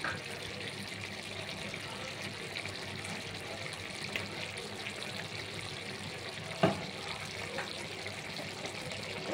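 Cooking oil heats in a pan for a Bengali thor ghonto mixed vegetable curry, giving a steady, even hiss and faint crackle with one brief clink partway through, no talking.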